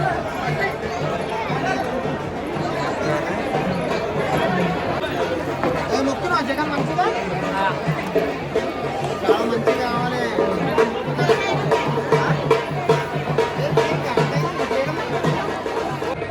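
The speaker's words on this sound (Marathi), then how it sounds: "गर्दी आहे भाई आता." A dense crowd of pilgrims at Tuljapur temple chatters continuously, with many overlapping voices forming a loud, steady babble throughout.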